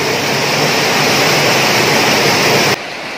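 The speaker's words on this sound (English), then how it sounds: "Going out to the underground river." Underground river water rushing through a cave, a loud, dense roar of flowing water that stays constant and then drops sharply in level near the end.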